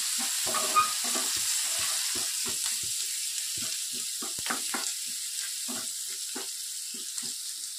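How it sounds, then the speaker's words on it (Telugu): Onions and four dried red chillies fry in oil for an Andhra-style colocasia fry, giving a steady close sizzle with repeated stirring scrapes scattered across it. "ఆనియన్స్ బ్రౌన్ కలర్లో వచ్చేంత వరకు వేయించుకోవాలి"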